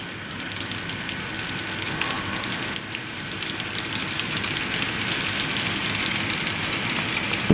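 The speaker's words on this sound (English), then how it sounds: "where the train is right now is a big loop, and it's pulling back out onto that main track" A model freight train rolls steadily around a loop of its track with a continuous rattling clatter, close and fairly even throughout.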